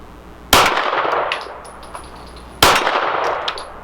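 Two sharp 9mm pistol shots from a Walther PDP Match Steel Frame, each followed by the ringing clang of a steel raccoon-shaped target, spaced about two seconds apart with a lingering metallic ring.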